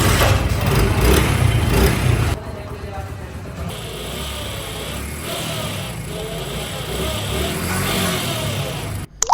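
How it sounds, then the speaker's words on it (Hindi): A motorbike engine with a worn clutch bearing runs loudly at first, then settles into a steadier idle with a faint extra whine and rattle, close to the microphone. "इस बाइक का क्लच प्रेस करने से इंजन से एक्स्ट्रा आवाज़ आने लग जाती है, इंजन की आवाज़ तब्दील हो जाती है।"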